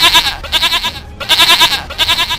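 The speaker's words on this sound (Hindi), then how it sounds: "ये तो बकरी की आवाज़ है" Cartoon goat bleating loudly up close, two long wavering cries separated by a short pause, with no speech over them.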